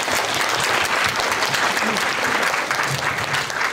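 Sustained audience applause at a tech summit product management panel, a dense, steady wash of clapping from a sizeable crowd filling the whole stretch without pause.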